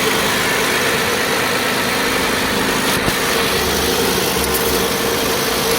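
A Hyundai Grandeur HG LPG car engine idles steadily and smoothly, a constant low hum and rumble close by, with no voices and only a faint click partway through.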